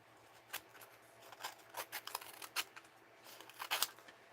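Scissors snip through a paper card in a mixed-media craft project, a quiet close series of short crisp cuts in an uneven rhythm spread over a few seconds, with no voices.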